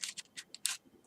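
Scissors snipping and handled while assembling a paper Yak 130 model plane: a quick series of five or six short, crisp metallic snips close by, with brief pauses between, no talk.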